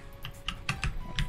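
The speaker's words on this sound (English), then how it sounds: "some snazzy keyboard work." Computer keyboard keys pressed during play of The Binding of Isaac: Repentance, a run of quick, close clicks in an uneven rhythm over a faint steady hum.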